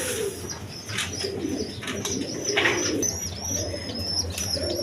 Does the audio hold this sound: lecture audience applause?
no